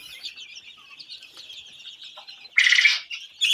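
Seventeen-day-old Egyptian Fayoumi chickens cluck and chirp nearby in short, irregular calls, with a louder burst of squawking near the end.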